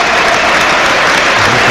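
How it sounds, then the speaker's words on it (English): A football stadium crowd at Manchester City versus Watford applauds for a young supporter, a dense, loud, continuous wash of clapping from a large crowd. "There's applause here for"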